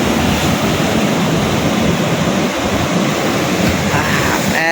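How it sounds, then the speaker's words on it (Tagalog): Big sea waves crash and surge in a loud, continuous roar, close by with wind buffeting the microphone and no pause between swells. "Yan, laki ng alon."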